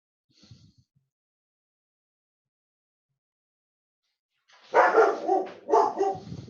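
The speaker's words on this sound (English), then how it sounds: "that's my dog barking here." A dog barks a couple of times, close and fairly loud, after a long stretch of near silence broken only by one faint brief sound early on; no talking.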